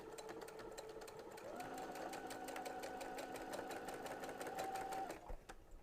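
A sewing machine stitches a small hem on fine fabric, producing a rapid, steady mechanical whir close by that speeds up partway through and stops abruptly near the end.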